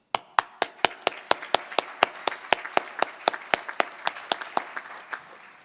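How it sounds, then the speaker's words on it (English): Applause from a luncheon audience, heard as a steady run of distinct, fairly close handclaps at an even rhythm, with no talk over it. "Please join me in offering an appreciative round of applause"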